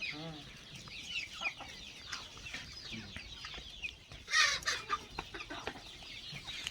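Native chickens and a multicoloured rooster cluck and call in a busy, overlapping chorus at a farm, with a louder burst of squawking midway and faint voices in the background.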